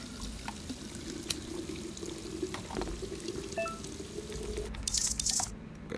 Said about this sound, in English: we gotta go water our plants